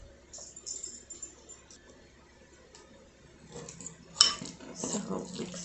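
A utensil scrapes and clinks against a bowl while mixing tuna filling for a lemon tuna pocket, soft irregular stirring taps that grow busier toward the end, close and quiet.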